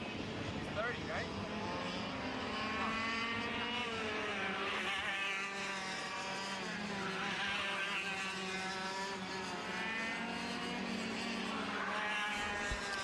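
Tag Masters racing karts drive at the WKA Man Cup, their high buzzing engines rising and falling in pitch as they pass through the track, steady and fairly distant, with an announcer talking over the noise.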